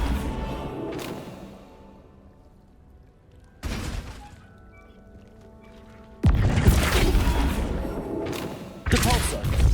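A Flipendo spell cast in Hogwarts Legacy lands as sudden loud bursts: a sharp blast, a quieter stretch of low hum, then a heavy crashing impact followed by another punchy hit near the end.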